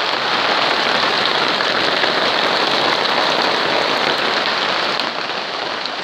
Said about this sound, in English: The sun's out and it's bloody hailing.